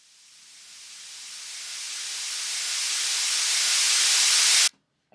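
A white noise sample in Reason fades in gradually from near silence, swelling to a loud steady hiss before stopping abruptly.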